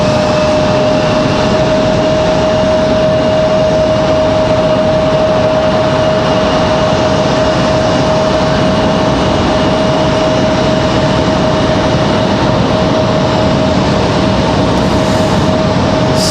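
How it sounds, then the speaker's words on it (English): A Delta Airbus A321neo jet takes off at Raleigh-Durham International Airport, a loud, continuous engine roar and rumble that holds steady throughout with a constant whining tone on top. "that A321, it was Delta 2496 headed off to Salt Lake City"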